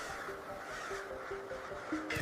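Several harsh crow caws ring out over a low, constant background rumble, spaced irregularly across a couple of seconds.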